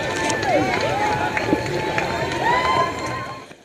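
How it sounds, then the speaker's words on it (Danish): Spectators lining a Brooklyn street during the 2011 NYC Marathon, a steady crowd murmur with scattered cheers and whistles as runners stream past, heard from among the racers with footsteps and a voice talking over it. "Masser af mennesker, der står og jubler ved siden af."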